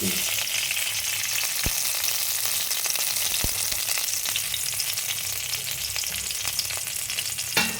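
Chana dal, urad dal, mustard seeds and dried red chilli crackle and sizzle steadily in hot oil for a cauliflower curry tempering, with a couple of sharp pops and faint stirring throughout, no voices.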